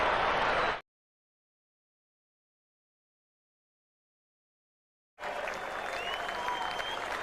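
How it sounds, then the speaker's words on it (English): A crowd applauds and cheers at Trent Bridge cricket ground during a match, in a loud burst that cuts to silence and then resumes as sustained clapping. "So a big cheer here at Trent Bridge."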